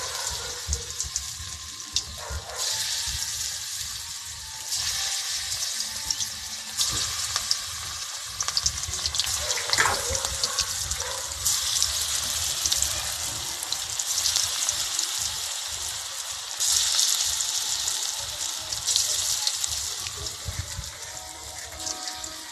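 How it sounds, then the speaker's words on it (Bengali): Pointed gourd pakoras sizzle and crackle steadily in hot oil, a dense close frying hiss that swells as each piece is dropped in, with faint clinks and no talk. "তেল গরম হয়ে গেছে, এবারে আমি একটা একটা করে পকোড়াগুলো দিয়ে দেবো।"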